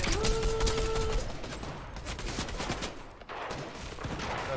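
Gunfire from a weapon in an arena shooter game, rapid bursts of sharp shots in quick succession, loud and close, with a short pause before the firing resumes.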